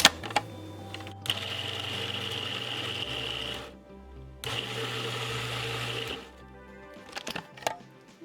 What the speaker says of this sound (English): Take your onions, or whichever one you want to start with, and dump them all into your food processor.